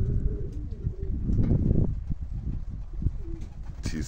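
German rooftop pigeons coo close by amid a rush of fluttering wings, with soft, repeated bird calls continuing after the burst of movement.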